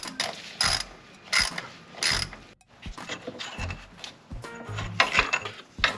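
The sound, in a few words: ratchet removing Honda Civic AC compressor bolts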